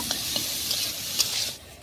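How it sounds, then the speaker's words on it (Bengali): Grated beetroot with a little salt fries lightly in hot oil in a wok, giving a steady soft sizzle with a few scraping stirs of a spatula, close and alone. "বিটগুলো হালকা ভেজে নেব।"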